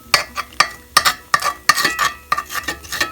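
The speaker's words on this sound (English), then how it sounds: "And stir it up." Gravy sauce stirred in a pan on the stove top beside steak and onions: a close, rhythmic run of about ten quick scraping, clinking strokes against the pan, with no talking.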